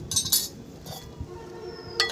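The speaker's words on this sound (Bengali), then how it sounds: "থালাটা নিয়ে নিলাম।" Metal cutlery and dishes clink as a plate is picked up at a home meal of meat, luchi and fried vegetables: a few bright, close chinks at the start, a softer knock midway, and another clink at the end.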